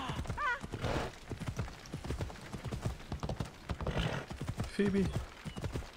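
A horse gallops in Assassin's Creed Odyssey, its rhythmic clip-clop of hooves running steadily throughout, with a brief whinny and someone talking over it.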